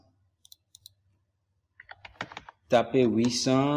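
Brief clicks of typing on a computer keyboard: a few sparse keystrokes, then a quicker cluster of taps before a voice starts speaking over the end.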